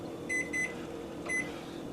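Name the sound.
kitchen timer being set, beeping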